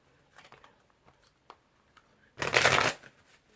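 A few soft tarot card flicks and taps, then a quick, crisp riffle of the cards being shuffled up close.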